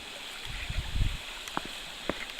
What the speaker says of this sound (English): passing by a babbling brook of sorts